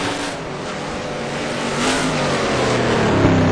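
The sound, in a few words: Corvette race car on track at Trois Rivieres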